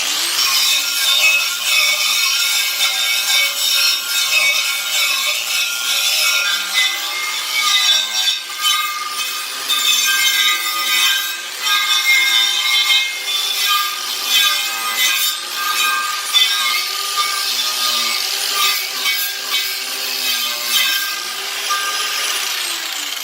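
A wire brush on a small angle grinder whirs with a harsh scraping, abrasive rasp stripping paint from a metal wheel, steady and close, with the pitch wavering as pressure changes and no talking.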